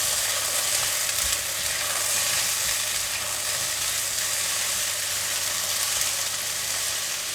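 Mushrooms frying in hot oil while being stirred in the pan, a continuous close sizzle with faint scraping and occasional soft knocks from the utensil, steady throughout without speech.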